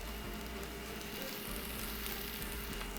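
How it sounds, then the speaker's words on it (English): Onions and garlic sauté in a pan over medium-low heat, giving a steady, even sizzle with soft crackle, close and continuous with no talk. "now we're gonna saute these onions until they've just turned translucent"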